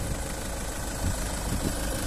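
A VW Golf 2.0 TDI GT diesel hatchback idles close by, giving a steady, even rumble with a faint mechanical clatter and no voices.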